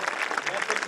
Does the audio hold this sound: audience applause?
yes